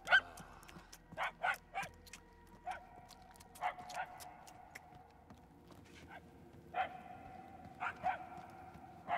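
A dog whimpers in the video game Marvel's Guardians of the Galaxy, giving repeated short, high whines in uneven bursts over a quiet, humming game background for about nine seconds.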